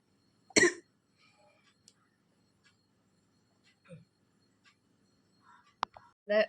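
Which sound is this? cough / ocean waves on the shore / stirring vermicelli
cough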